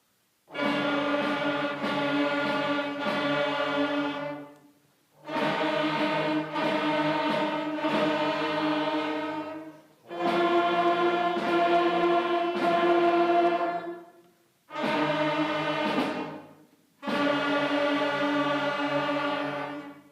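A school concert band plays a simple three-note exercise in five loud, full sustained bursts separated by short gaps. The ensemble sounds close and no one talks over it.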